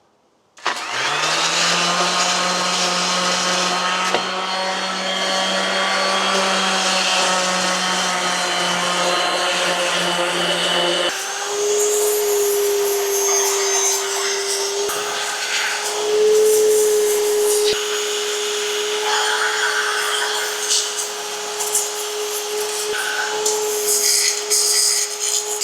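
Power sanding knocks the rough top surface off Harley-Davidson motorcycle side panels, a loud continuous abrasive whir with a steady motor hum that changes pitch partway through, with no talking.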